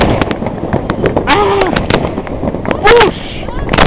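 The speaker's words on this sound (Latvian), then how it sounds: "Ko viņi tur dara? Uguņošanu ķīpa." New Year's fireworks crackle and pop continuously in the distance on a 2009 celebration night, with rapid bangs and whistling rockets layered over a busy, noisy crowd, and people talk nearby.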